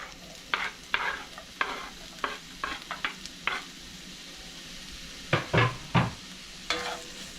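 Garlic and onions sautéing in a pan, with a soft sizzle underneath and a series of scraping stirs from a utensil, irregular and close, grouped in bursts with a quieter gap midway.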